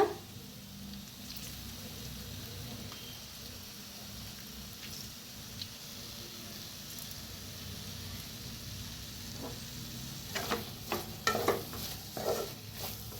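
Potato bhaji with lemon juice is mixed in a pan, a soft steady background of faint frying, then a cluster of louder scraping and clattering stirs toward the end.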